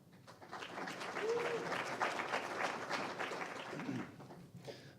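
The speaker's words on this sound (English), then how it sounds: "let's give them another round of applause" A crowd at a public talk event claps steadily for several seconds, a moderate round of applause with a few faint voices mixed in.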